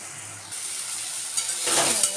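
Water spinach greens and stems stir-fried in a pan, a short burst of steady sizzling that grows slightly louder, ending in a brief scrape of the spatula; nobody speaks.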